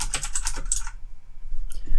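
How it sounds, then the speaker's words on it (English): Keys clatter on a computer keyboard in a quick burst of clicks up close, then a pause and a couple more keystrokes, with no voices. "pressing enter on my keyboard to make a new line"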